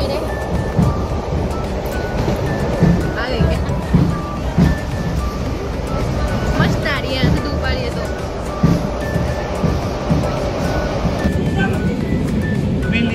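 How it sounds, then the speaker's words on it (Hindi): A Russian local railway train rolls along in a continuous rattling rush, with irregular clanks and thumps of the carriage heard from close by inside. "आप यहाँ की ट्रेन देख सकते हैं, ये लोकल ट्रेन है"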